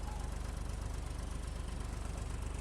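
Old-school tractor motor idling in a farming video game on the Chellington map, a low steady rhythmic chug with mechanical knocking, close and alone with no talk.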